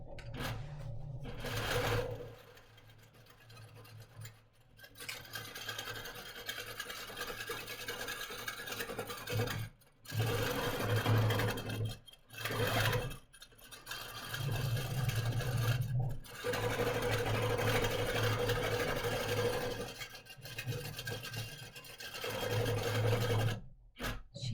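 A longarm quilting sewing machine stitches steadily, a loud continuous mechanical whir running nearly throughout with several brief pauses as it starts and stops, close by with no talk.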